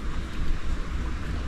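Strong wind and rain during night fishing make a broad, blustery roar with gusting buffets close to the microphone, steady and without voices.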